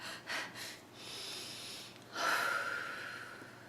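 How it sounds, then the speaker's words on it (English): Deep inhale as part of a relaxation breathing exercise: two short sniffs, then a sustained, close airy intake of breath swelling midway and tapering off, with no voice. "breathe in"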